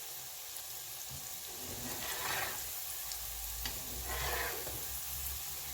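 Pork tenderloin and country-style okra fry in a pan with a steady, soft sizzle and crackle, swelling gently twice as the food is stirred, with no one talking.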